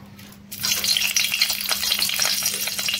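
Dried red chillies hit hot oil in a wok and break into a loud, steady sizzle of crackling fat that starts abruptly after a brief quiet moment and keeps going close up.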